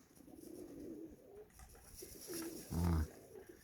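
Pigeons bred for flying coo outdoors in the wind, a few soft low calls ending in a louder, close coo.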